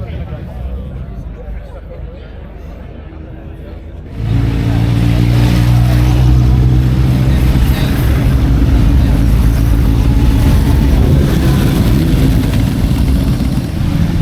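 A six-cylinder Z900 motorcycle engine rumbles loudly nearby at a bike night, rising to a strong, steady roar after a quieter idle, with traffic noise around it.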